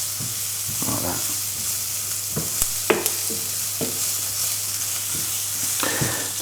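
Flour being stirred into onions and oil in a hot pan, a steady close sizzle broken by scattered scraping and clinking strokes of the spoon, with no voices.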